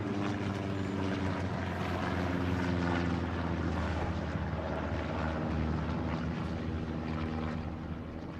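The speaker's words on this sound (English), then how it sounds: "So we hear the planes overhead." Propeller planes drone overhead in the World War II shooter Hell Let Loose during a competitive match, a steady loud engine roar filling the scene without speech.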